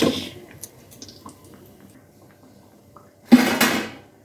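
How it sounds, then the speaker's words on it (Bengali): Crispy fried eggplant fritters (beguni) in gram-flour batter are crunched close up: a few small crackles and ticks, then one loud, crackling crunch that fades quickly. "কতটা মশমশা হয়েছে বুঝছেন শব্দটাই বলে দিল"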